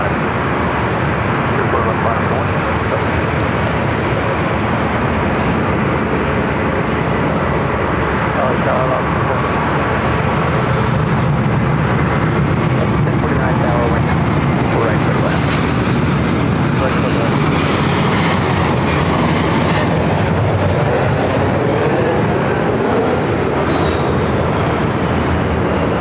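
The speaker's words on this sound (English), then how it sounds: "A321 Neo, number 2 for takeoff here on the north side." A Delta Airbus A321neo jet takes off from the north side at LAX, its engines a broad, sustained roar that builds and shifts in pitch over nearly half a minute, heard from the airfield edge.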